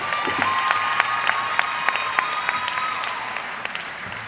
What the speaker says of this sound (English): give my baby another round of applause